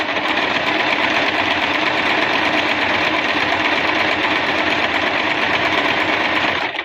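A Singer Simple sewing machine stitches fabric at a slow, even pace, giving a loud, continuous mechanical whir close by with no pauses until it stops at the very end.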